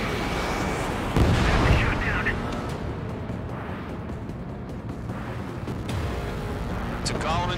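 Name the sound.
missile launch and explosions in a flight combat video game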